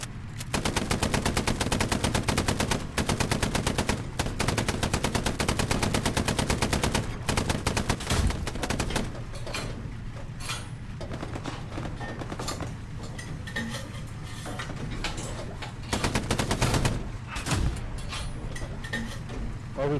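Automatic and rapid gunfire rattles through a Hell Let Loose battle in dense sustained bursts, tapering into scattered shots and mechanical clatter before another heavy burst near the end.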